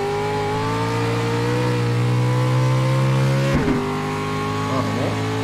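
Race car engines in the iRacing sim hold a loud, steady drone at close range. Around the midpoint the revs drop sharply and then climb again in rising sweeps.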